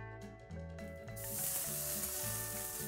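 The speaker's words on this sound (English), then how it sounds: "we're just searing it for about 5 to 10 seconds on each side" Ahi tuna sears tataki style in a very hot pan: a sharp sizzle swells up about a second in and holds steady over a background of music.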